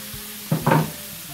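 Funnel chanterelle mushrooms frying in butter with onion, a short burst of sizzling with a spatula turning them, loud for a moment and then fading back to quiet pan noise.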